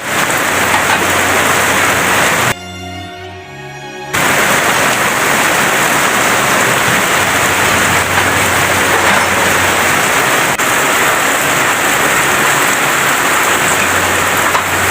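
Steady rain pours outside a home massage and hilot session, a dense, loud hiss that fills the scene except for a brief cut-out partway through.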